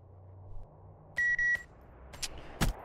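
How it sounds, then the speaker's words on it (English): Two short electronic beeps sound in quick succession, clear and close, followed by a few faint clicks against quiet background noise. "I wish I could stop this beeping from happening"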